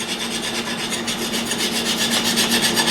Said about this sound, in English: you can just scrape that out. Makes it a nice clean